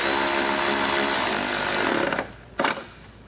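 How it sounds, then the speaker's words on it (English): A power tool with a 13 mm socket snugs bolts on a Curt trailer hitch receiver on a 2018 vehicle, a loud continuous buzzing whir that stops, then a brief second burst. "I'm going to take a 13 millimeter socket and just kind of snug these up"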